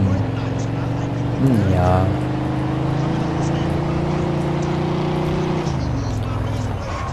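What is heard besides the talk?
car driving in the video game Mafia II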